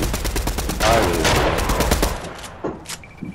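Rapid bursts of gunfire in the online shooter game Fortnite, loud and close, crackling through the first few seconds and then thinning into scattered shots as the firefight tails off.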